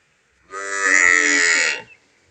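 A buffalo calf lets out a single loud, drawn-out moo lasting over a second, close by and clear, with no talking over it.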